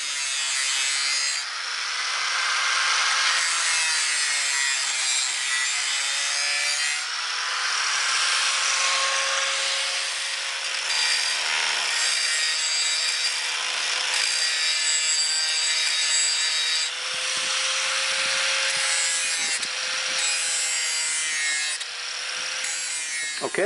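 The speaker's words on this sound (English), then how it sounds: "Let's take it to the grinder and see what happens." A bench grinder works a metal spearhead, a continuous harsh abrasive grinding with ringing tones that rise and fall as the blade is pressed and shifted, steady and close throughout.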